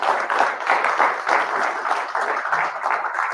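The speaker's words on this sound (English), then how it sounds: "So yeah, round of applause." Audience applause at a fishing film festival awards ceremony, a steady, moderately loud crowd of clapping hands that carries on for several seconds without speech.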